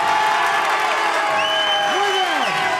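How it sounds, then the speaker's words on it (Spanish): Studio audience on a Chilean TV game show stage applauds and cheers for Yorka, a steady dense wash of clapping and crowd noise with a host's voice and tonal music-like sweeps over it. "Un aplauso para Yorka."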